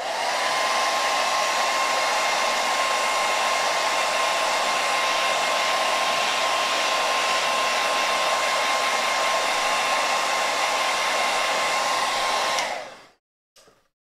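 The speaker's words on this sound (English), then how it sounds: "I just kind of applied the hairdryer to this front area here" A hair dryer blows steadily and loudly at close range over wet watercolor paint for about twelve seconds, a constant whooshing roar with a faint motor whine, then switches off abruptly, leaving near silence.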